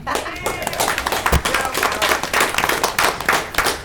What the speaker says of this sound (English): Stormy, if you want to clap.